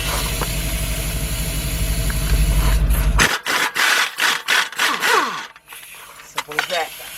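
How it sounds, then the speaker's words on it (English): Up close, an air impact gun works 3/4-inch nuts off a rear shock on a 1999 Isuzu Rodeo LS 4WD, an engine idling at first, then several sharp rattling bursts separated by brief pauses, with a person speaking. "Okay, we got 2 3/4 inch nuts on the end of this. That's an air gun."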